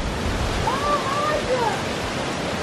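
A river in Crete flows with a steady broadband rush of water, loud and even throughout, with faint whistling tones drifting over it.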